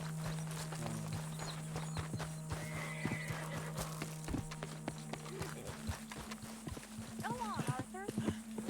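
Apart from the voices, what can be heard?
horse in video game Red Dead Redemption 2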